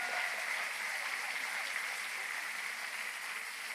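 A church congregation applauds at a prophets' school service, producing a dense, steady wash of clapping throughout the short stretch, fairly loud and continuous with no voices standing out.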